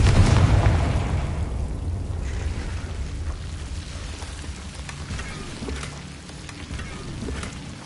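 A Confringo fire spell bursts in Hogwarts Legacy with a loud, low boom at the start, then a long rumbling, crackling decay like debris and rain that fades slowly over several seconds.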